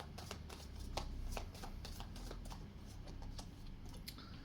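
Tarot cards shuffled by hand in a quiet room, a rapid string of crisp riffling clicks and soft slaps lasting the whole moment, close and moderately quiet with no talking.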